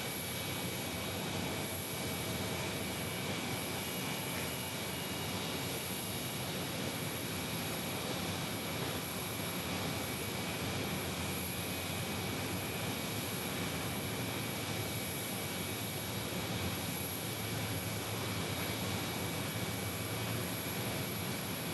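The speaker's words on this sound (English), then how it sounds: "There is a lovely A321neo of United." A United Airbus A321neo jet airliner gives a steady, even engine roar with a faint high whine, held at a constant moderate level for the whole stretch with no talk.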